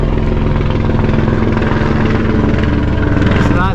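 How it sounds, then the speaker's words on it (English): A helicopter's steady rotor thump and engine drone fill the whole stretch, loud and close, with no pause. "See, I hear a helicopter out."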